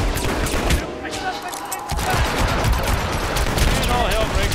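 Dense bursts of gunfire from the Hitman video game, rapid overlapping shots crackling loudly and continuously with a short lull partway through.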